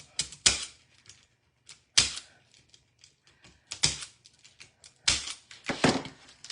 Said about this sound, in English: I'm going to cut all of these using this zip tie remover. It's supposed to tighten them and then it cuts them right at the bottom.